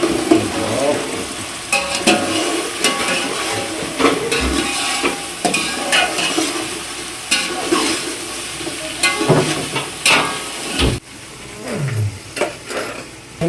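Flattened rice (chura) being stirred and fried in a pan with salt, giving a steady scraping, clattering stir with sizzling throughout and occasional sharp knocks of the spoon against the metal.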